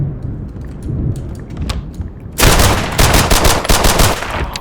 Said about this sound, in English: someone's firing on us